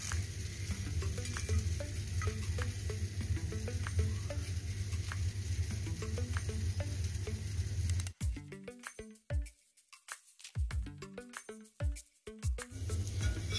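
Thin kollu (horse gram) dosa batter cooking on a hot pan gives a loud, steady sizzle with scattered crackles and pops. The sizzle briefly thins out, then returns.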